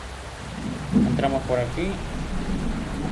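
Rain and thunder in the driving game Indonesia Bus Simulator, a steady wash of rainfall with a low rumble of thunder underneath, heard beneath someone speaking briefly.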